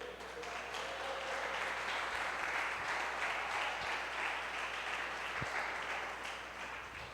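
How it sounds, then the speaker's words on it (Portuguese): A church congregation claps together in a sustained, dense round of applause that fills the room at an even, strong level for several seconds before easing slightly. "Você pode aplaudir o Senhor?"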